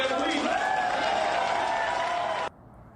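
An audience at a speech with hecklers applauds and murmurs in a dense, continuous wash of clapping and crowd noise that stops abruptly near the end.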